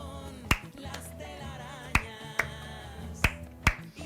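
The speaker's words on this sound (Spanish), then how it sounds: "Si nosotros hacemos el ritmo con nuestras palmas y decimos casa, árbol, casa" Sharp, isolated hand claps, five in all, tap out a spoken word rhythm at uneven intervals over quiet background music.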